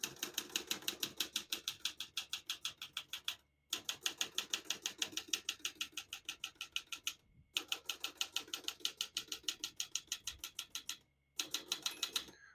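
Steady, rhythmic clacking of keys on a 1971 Olivetti Lettera 32 portable typewriter, crisp and close, in quick even bursts separated by brief pauses, with no talking.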